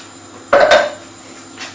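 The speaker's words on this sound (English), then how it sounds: "Give everything a really good stir." A spoon clanks against a cooking pot of sweet potato and spinach stew with stock and chopped tomatoes, a couple of close metallic scrapes and knocks, then a fainter scrape after a short pause.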